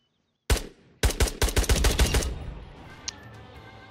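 Gunfire in the video game Ghosts of Tabor: a single shot, then a quick burst of about eight close, loud reports trailing into echo.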